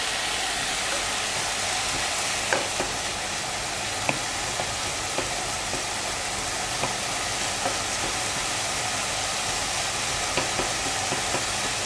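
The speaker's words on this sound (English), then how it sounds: "So you have to stir them a little bit so that they don't stick together at first." Hörnli pasta stirred in a pot, a steady bubbling hiss with light scraping clicks from the spoon recurring every second or so throughout.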